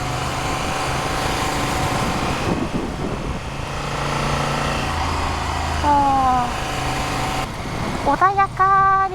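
A Honda HAWK11 motorcycle engine drones as the bike rides a winding road, its pitch climbing and falling with throttle and shifts. Rushing wind sits under it, and a rider's voice can be heard at times.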